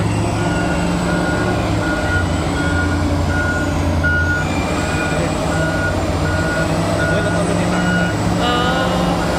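Dump truck at the Sepon gold mine, its reversing alarm beeping in a regular repeating pattern over a constant heavy engine rumble, close and loud throughout.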